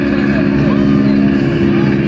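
A Stearman N2S Navy biplane trainer from World War II, its 220 to 225 horsepower radial engine droning loud and steady as it passes at an airshow, with a strong low hum throughout and possible announcer talk beneath.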